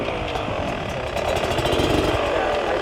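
A 2021 Beta 250 RR two-stroke dirt bike engine on a trail ride gives a steady, close, buzzing drone that swells slightly with more throttle.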